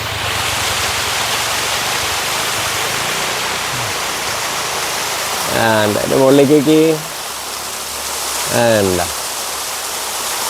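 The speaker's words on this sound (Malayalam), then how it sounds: "വെള്ളം ഒഴുകി ഒഴുകി ഒഴുകി ഒഴുകി ഒഴുകി." Water rushes steadily at Ilaveezhapoonchira, a constant close hiss of flowing water throughout, with people talking briefly over it near the middle and end.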